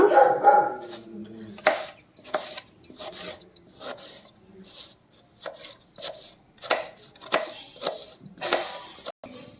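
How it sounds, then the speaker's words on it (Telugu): A knife chops radish into small onion-like pieces on a board, a steady run of sharp, close cuts in irregular bursts with brief pauses, no talking over it. "చూడండి ఉల్లిపాయ ముక్కల్లా కోతున్నాం మనము"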